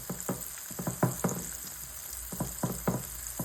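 Ocean perch frying in a pan, a steady sizzle with soft, irregular popping and crackling bursts, close and moderately loud, with no one talking.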